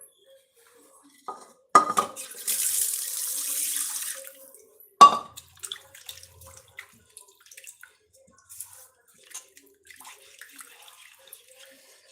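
Tap water gushes for a couple of seconds into a metal kadai (wok) being washed at a sink, followed by a sharp clang and scattered scrapes and clinks of the pan being handled, close and alone.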